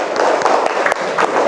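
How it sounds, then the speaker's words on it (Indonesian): A class of sixth-grade children clapping in a classroom, brisk overlapping claps forming a steady, fairly loud patter throughout the short stretch, with no talk over it. "Boleh tepuk tangan dulu untuk kalian biar disemangati dulu."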